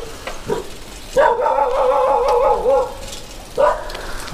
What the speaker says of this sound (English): The random dogs.